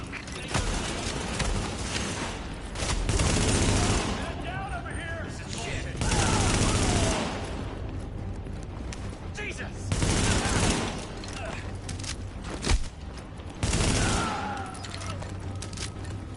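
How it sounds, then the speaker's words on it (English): Heavy video game gunfire in a post-apocalyptic shooter, loud bursts of rapid fire arriving in repeated waves with short lulls between, under occasional talk. "We're taking heavy fire."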